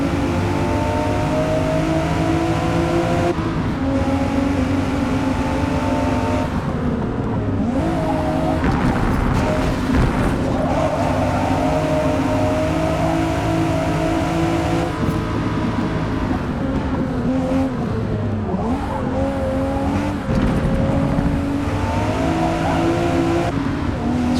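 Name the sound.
race cars racing in video game Forza Motorsport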